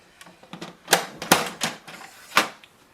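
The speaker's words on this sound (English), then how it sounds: "Wait for the ink cartridges to move and come into the middle." An HP DeskJet 4252e printer's ink cartridge carriage shifts into position, giving a short series of close mechanical clicks and rattling whirs with a few louder clunks.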